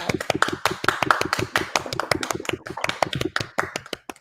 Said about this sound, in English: Let's get a huge round of applause for all of our panelists today because they did a fantastic job